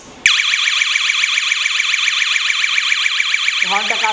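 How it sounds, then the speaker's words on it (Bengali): An electronic horn driven by a homemade touch-switch circuit bursts on loudly and holds a steady, rapidly warbling alarm tone, close up, before a lower shifting tone cuts in at the end. "হর্নটা কাজ করতেছে"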